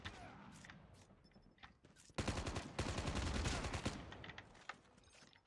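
Rapid gunfire in Call of Duty: Mobile, with pistol shots as the stated weapon, erupts as a dense, loud burst lasting nearly two seconds. Scattered fainter game sounds come before and after it.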